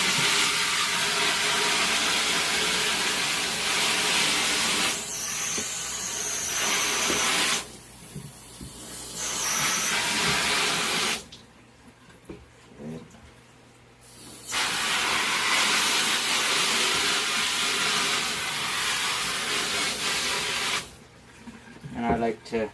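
A water spray hisses loud and steady while rinsing a silkscreen printing frame, running in long bursts and stopping in short gaps, with someone talking.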